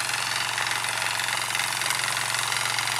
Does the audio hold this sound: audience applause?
no